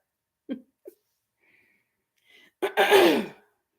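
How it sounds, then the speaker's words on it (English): A single sharp sneeze bursts out after a couple of faint breathy sounds, loud and close in an otherwise quiet room. "I don't know where that sneeze came from."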